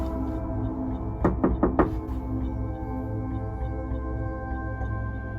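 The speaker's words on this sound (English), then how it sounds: "Should I knock on the door, see if something happens?" Knuckles rap on the door of an old house in a ghost town, four quick knocks in a tight burst, set against a steady low hum of background noise.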